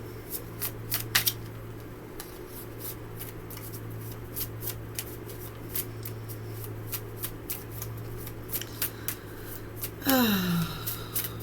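Cards being shuffled close by in a quiet room, a run of quick crisp riffles and slaps with a brief pause, then a fluttering burst near the end.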